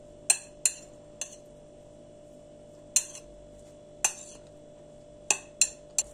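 A spoon stirring olive filling for pastry in a bowl, sounding as a series of sharp, irregular clinks against the bowl with quiet gaps between, close by and without talk.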